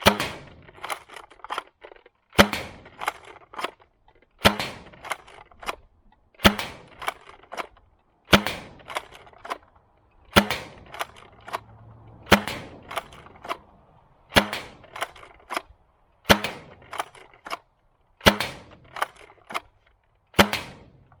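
Foam dart blaster firing AF Pro darts on a range, a sharp near crack roughly every two seconds, about eleven shots, each followed by brief mechanical rattle.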